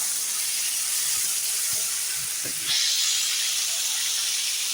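Cumin seeds sizzle in hot oil as a steady, bright hiss, with a few soft clicks and pops, growing slightly louder halfway through.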